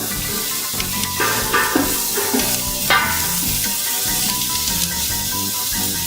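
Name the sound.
stirring minced garlic sizzling in pot for gumbo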